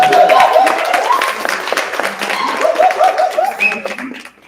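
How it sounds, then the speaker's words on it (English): Audience clapping to honor ancestors in a sacred space, a loud close burst of applause that thins out over a few seconds, with voices and cheers mixed in. "Clap it up for the ancestors."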